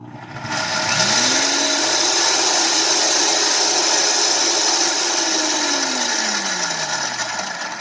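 An electric coffee grinder whirs loudly and steadily as it grinds coffee fine, its motor spinning up quickly and then winding down near the end of a short burst.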